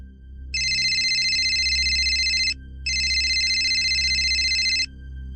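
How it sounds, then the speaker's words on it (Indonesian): A mobile phone rings in two long electronic trilling bursts, loud and close, separated by a brief gap, over a low steady hum. "Bangun-bangun karena HP-nya Ricky ini bunyi."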